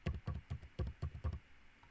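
Someone types a mobile number on a computer keyboard while filling in an online form: about eight crisp, evenly spaced key taps, close and fairly quiet, with no talk.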